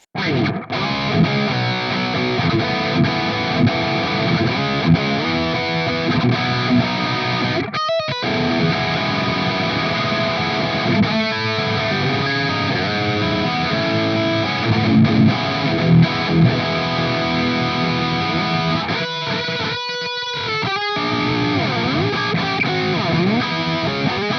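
Electric guitar played through a Neural DSP Nano Cortex with a noise gate, TS 808-style overdrive and hall reverb, giving a thick, sustained distorted tone with chords and riffs ringing continuously at steady volume.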